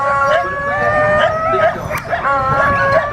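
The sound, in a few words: big dogs barking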